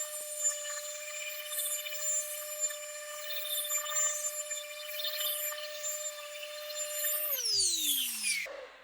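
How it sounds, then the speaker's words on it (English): A power sander scuffs the existing finish on a monkeypod slab before recoating with Rubio Monocoat, making a steady, even whine with faint scratchy grinding, then winding down near the end. "Just scuffing the finish."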